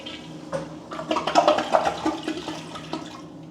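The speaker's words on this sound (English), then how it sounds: "the toilet, which we know we have to do a flush test on" A hotel bathroom toilet at a resort suite being flushed as a test: a steady rushing, gurgling wash of water, fairly close and without talk, building through the middle before easing into a weaker trickle.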